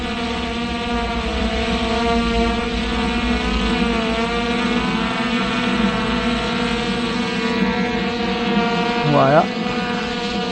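A FIMI X8 SE 2022 V2 drone hovers close by carrying a dangling weight, its motors and propellers giving a loud, steady tonal whine with slight pitch wobbles, someone speaking briefly over it.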